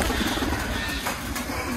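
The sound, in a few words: pigeon cooing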